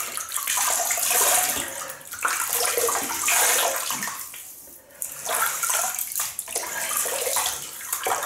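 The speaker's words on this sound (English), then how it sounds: "You can always add more water, which we will do now to the face." Water splashed onto the face during a wet shave, running irregularly, close and fairly loud, with repeated surges of splashes and brief pauses.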